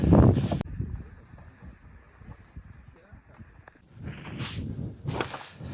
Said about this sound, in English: super windy, so I hope you can hear us